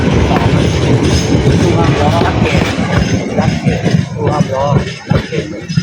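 A train runs along rails at a station-side community on the outskirts of Yangon, Myanmar, with close, loud rumbling and rhythmic clatter of wheels throughout, and indistinct voices mixed in.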